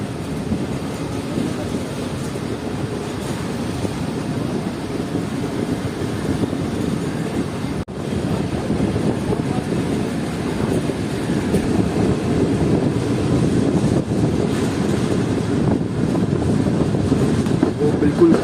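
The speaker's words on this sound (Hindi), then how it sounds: "प्लेटफॉर्म नंबर 2 से निकल रही है इस वक्त हमारी ट्रेन" The Karachi Express rolls along the tracks in Pakistan, leaving a station platform, with a steady loud rumble of wheels and wagons and faint clicking rail joints heard from inside the train, plus wind buffeting.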